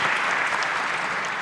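A large conference audience at a national youth assembly in Yerevan applauds the speakers, a thick, even wash of clapping that stays loud and sustained throughout.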